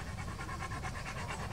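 A dog pants rapidly and steadily up close, a rhythmic breathy sound continuing throughout with no talking.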